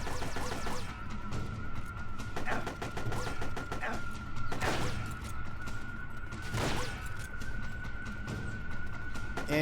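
Gunshots in the video game Metal Gear Solid: Portable Ops crack out in a few sharp, separate bursts over a constant, loud game soundtrack.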